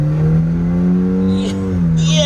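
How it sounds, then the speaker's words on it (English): A nitrous-fed Chevrolet S10 truck revs hard during a burnout, a loud sustained engine drone holding high then sagging and rising again, close by, with brief hiss-like bursts. "Man, we can do some good burnouts."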